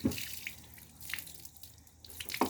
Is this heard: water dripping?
yes